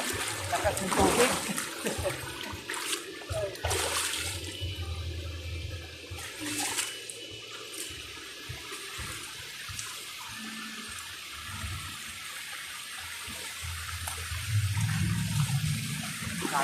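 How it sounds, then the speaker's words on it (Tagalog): River water at Nagcarlan rushes and splashes steadily, with bursts of nearby splashing as people wade through a strong current, voices calling over it. "Lakas ng tubig."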